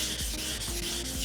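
Hand sanding with wet-and-dry 400 grit sandpaper, used wet on a car dash part, gives steady rhythmic scratchy rubbing strokes, close and continuous, with no talk.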